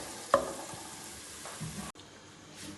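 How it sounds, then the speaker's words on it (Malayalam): Chopped green chillies get stirred in a hot frying pan, a soft steady sizzle with a sharp utensil knock near the start, a few scraping strokes, then a brief break before the frying resumes. "ഇതിലേക്ക് ഞാൻ 2 പച്ചമുളക് ചെറുതായി മുറിച്ചത് നന്നായി ഒന്ന് ഇളക്കി"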